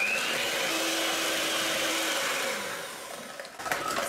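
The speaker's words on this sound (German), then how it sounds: "Geben wir da auch Vanillinzucker, Prise Salz, Zucker und Öl. Und werden es auch so kräftig aufschlagen." An electric hand mixer whirs continuously as it beats sugar, vanilla sugar, salt and oil in a bowl, close and steady before easing off and ending with a few light knocks.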